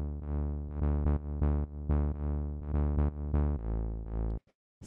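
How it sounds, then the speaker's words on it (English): Warm analog synthesizer bass line, playing a steady run of sustained, rounded notes with a rhythmic pulse before stopping abruptly near the end, clear and alone without voices. "the first sound that I have here is this bass line"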